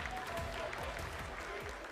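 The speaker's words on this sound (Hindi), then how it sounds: "Lot of applause indicates that till now the performance has been nominal." Applause from the audience at the Chandrayaan-3 moon landing broadcast, a steady wash of many hands clapping at a moderate distance, with faint voices mixed in underneath.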